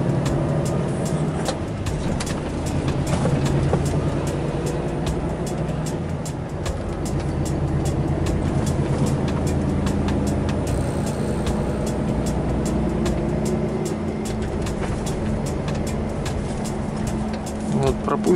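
A truck drives on a road between Regensburg and Nürnberg, a steady low engine rumble and road noise heard from inside the cab, with faint clicks scattered throughout.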